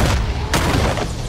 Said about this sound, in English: Look, it's the gel explosion-y things that he had in the other games.